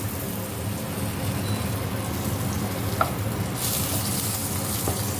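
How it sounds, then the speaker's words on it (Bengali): Eggplant fries in a pan with a continuous, fairly loud sizzle, one brief click near the middle, and a brighter hiss swelling in the later part. "আর এখানে আমি একটু বেগুন ভেজে নিচ্ছি"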